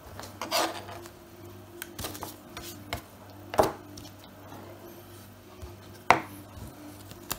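Large wild forest mushrooms are sliced with a knife on a board in a few distinct cutting strokes, spaced a few seconds apart, quiet and close, over a faint steady hum.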